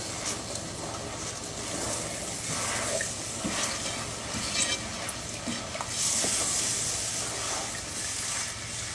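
Caramel being poured in a little at a time and stirred in a pan on a stovetop over medium heat, a steady soft sizzling hiss with faint scraping of the spoon, continuous and fairly quiet with no talking.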